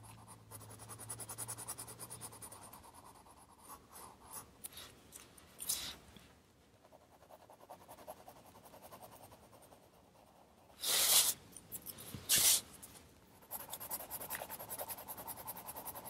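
A dark gray pencil scratches steadily across paper in close, continuous strokes, with a couple of louder brisk scribbles near the end.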